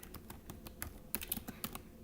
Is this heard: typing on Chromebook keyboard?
yes